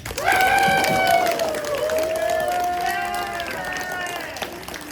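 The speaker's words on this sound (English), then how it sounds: "Can we get a big applause?" An audience at a Touhou convention panel cheers and applauds, with sustained whooping voices over a broad wash of clapping that stays loud and then tapers slightly.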